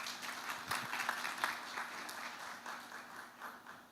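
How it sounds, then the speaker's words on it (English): Attendees at an academic-practitioner conference give a round of applause, a moderate steady patter of clapping heard from a distance at low level. "I think you deserve a round of applause"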